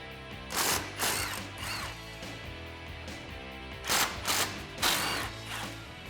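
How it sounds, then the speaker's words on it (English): A socket ratchet working the bolts off a brake caliper on a 2010-2020 Ford F150, giving several bursts of quick, close mechanical clicking with short pauses between them. "grab a 13 millimeter socket and remove these two bolts"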